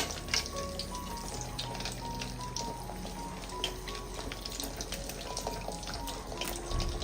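Banana pieces frying in hot oil on medium flame, a steady close sizzle and bubbling that runs alone through the whole stretch.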